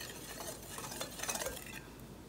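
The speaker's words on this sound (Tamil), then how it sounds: "இதை ஒரு விஸ்க் வச்சு நல்லா அப்படி mix பண்ணி வச்சுக்கோங்க" Whisk scraping and tapping in a bowl as dry waffle ingredients like flour, baking powder and salt are mixed, a quick, fairly quiet run of stirring strokes.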